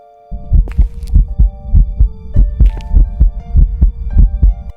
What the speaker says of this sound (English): your heartbeat is a lot louder when a Raiju is hunting compared to a regular ghost.